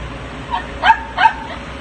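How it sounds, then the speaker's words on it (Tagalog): Two short dog barks or yips about a third of a second apart, moderately close, over a steady low background hum. "medyo maingay yung aso"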